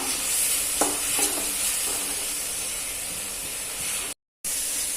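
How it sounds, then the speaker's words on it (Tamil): Onions sautéing in a pan as the base of a prawn gravy, a constant close hissing sizzle with a couple of brief stirring scrapes, cutting out for a moment near the end. "நல்லா வதங்கணுங்க வெங்காயம் நல்லா வதங்கி வரணும்"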